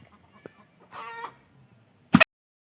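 A native-breed rooster gives a short burst of clucking, followed a moment later by a sharp, loud thump as it is struck.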